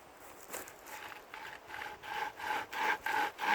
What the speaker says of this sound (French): je passe ma scie en dessous, je prends des bons appuis, je prépare ma scie